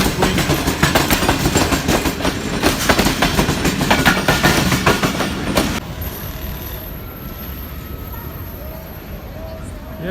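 At night in Tando Adam, Sindh, Pakistan, a train rumbles past close by with rhythmic clattering of wheels on the track, then the noise drops abruptly to a softer steady rumble.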